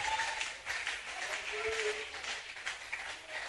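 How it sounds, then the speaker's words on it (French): A church congregation applauding during a sermon, steady dense clapping from many hands at moderate distance, continuous throughout with a faint voice mixed in. "Acclamons très fort."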